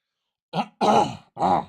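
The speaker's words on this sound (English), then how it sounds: "Got to clear my throat" A person clears their throat in three gruff, rasping bursts, close to the microphone, after a moment of silence.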